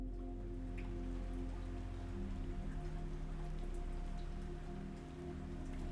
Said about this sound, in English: and through the wall into the morning drizzle.